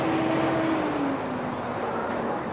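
Large trucks roll past on a road, a steady loud engine rumble with a sustained drone that slowly shifts pitch as they go by, no talking.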